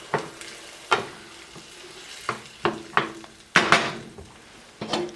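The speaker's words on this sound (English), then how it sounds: "salt and pepper, I'm going to turn this down to a simmer." A tomato-style sauce for patatas bravas, seasoned with white wine vinegar, salt and pepper, simmering in a pan under a low bubbling hiss, with several sharp clinks and scrapes of a utensil against the pan.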